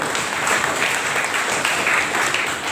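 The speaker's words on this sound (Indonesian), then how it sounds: "tepuk tangan dulu dong untuk kamu dulu" An audience at a church youth revival service claps continuously, a dense and even wash of applause with no voices standing out.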